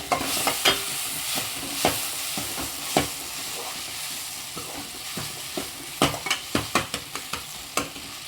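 Tomatoes sauté in a pan with a constant sizzle, broken by repeated sharp clicks and knocks of a spoon stirring, quickening toward the end, no voices.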